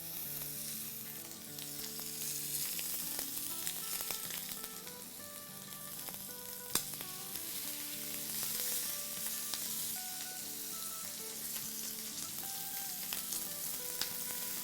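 Chicken shish kebabs frying in a preheated pan on medium heat, giving a steady, close sizzle throughout with a few faint clinks, no voices.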